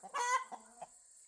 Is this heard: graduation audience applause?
no